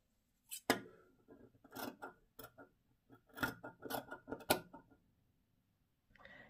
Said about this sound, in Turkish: Şimdi çizdiğim kısmı kesiyorum.